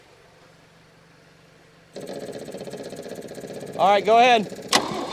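Engine of a 1961 Chevy Biscayne, a long-abandoned junkyard car, starting up: a steady idle-like drone fills the second half, with a brief rising rev burst and a sharp clunk near the end, preceded by speech.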